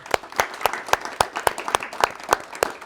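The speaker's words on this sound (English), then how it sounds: "Can we clap it up for them?" An audience at a live talk on foster care claps in a regular, fairly sparse rhythm, each clap sharp and distinct and close by, like a small group applauding together for a few seconds.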